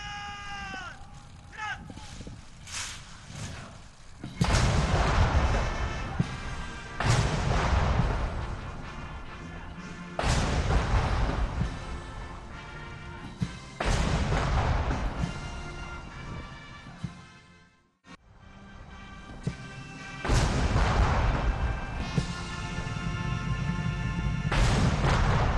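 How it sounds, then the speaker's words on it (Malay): A 21-gun cannon salute is fired during the national anthem at a royal ceremony. Several heavy booms land at spaced intervals, each followed by a long rolling decay, over a band playing the anthem. "21 das tembakan meriam dilepaskan dengan diiringi lagu kebangsaan."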